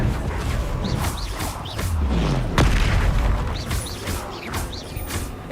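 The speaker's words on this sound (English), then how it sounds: "Expelliarmus" Spell effects in Hogwarts Legacy with Expelliarmus being cast: booming impacts and whooshing bursts repeat over continuous combat noise, loud and dense with no talk.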